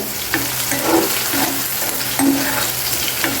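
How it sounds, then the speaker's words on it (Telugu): Pieces of bitter gourd fry in a pan with a steady, close sizzle, while a utensil stirs them in soft scraping knocks. "చక్కగా ఇలా కలుపుకుంటూ వేయించుకోండి అప్పుడు మొత్తం ఈవెన్గా చక్కగా వేగుతాయి"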